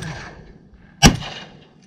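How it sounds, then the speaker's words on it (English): A single loud shotgun blast rings out during a duck hunt outdoors, sharp and close, with a short fading tail and no talking. "Nice shooting, dude."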